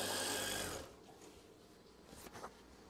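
Sewing machine stitching an eyelet swag curtain, running in a loud steady burst for under a second before stopping, leaving quiet rustling handling of fabric afterward.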